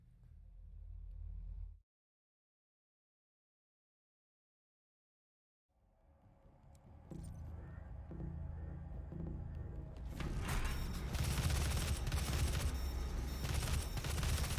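Rapid assault rifle gunfire in the video game DOOM (2016), dense bursts building to a loud sustained barrage after a brief gap of silence.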